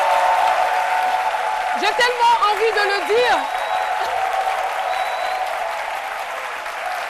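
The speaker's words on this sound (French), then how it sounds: "j'aimerais que le public puisse vraiment s'applaudir," A studio audience at a live TV variety show on RTI 1 breaks into loud, sustained applause that fills the room, while a presenter's voice speaks over the clapping.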